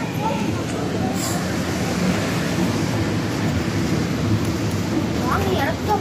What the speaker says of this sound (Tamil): நாங்க வந்து ட்ரெயின்ல போறோம்